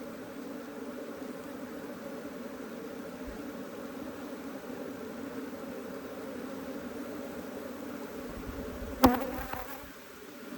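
Bees hum in a steady, dense drone around a hobbyist hive turned Africanized, now relocated to an apiary and being split, with a brief louder burst near the end.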